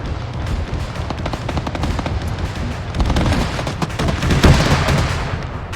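Continuous loud machine-gun fire aimed at a tank in an armored-combat video game, with rapid rattling bursts and occasional heavier booms building toward the end.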